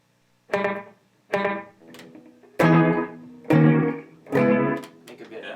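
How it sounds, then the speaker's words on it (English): Five plucked guitar chords ring out one after another through a slapback delay pedal, each with a quick single echo repeating just behind it, close and clear. "if you wanted a little more of a traditional slapback sound"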